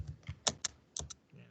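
Someone types on a computer keyboard while writing SQL, with a handful of quiet, irregular key clicks and pauses between them, faint and close.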